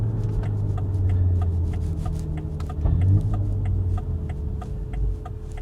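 A BMW X3M's S58 engine breathing through an Active Autowerke exhaust, a low throbbing drone that shifts pitch midway, as if changing gear, before settling back into a steady rumble, heard from inside the car with no voices.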